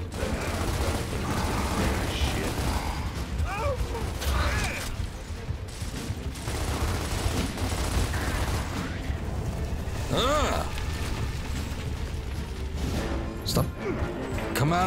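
Combat audio from the video game Gears of War Ultimate Edition as a frag grenade is thrown: dense bursts of gunfire, clanks and blasts spread over about fifteen seconds, with players talking throughout.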